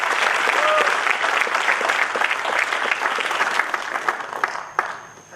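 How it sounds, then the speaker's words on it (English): A Toastmasters meeting audience gives a loud round of applause, dense clapping from a room full of people that tapers off toward the end, with a few final isolated claps. "With a loud round of applause, let us welcome Toastmaster Anusha Khurana to read out the speech of David."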